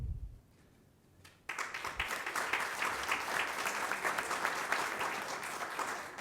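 Audience applause at a school district recognition ceremony starts suddenly after a brief hush and continues as a full, steady round of clapping from many people, fairly distant and even.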